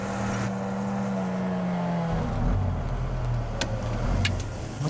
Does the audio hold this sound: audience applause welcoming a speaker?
no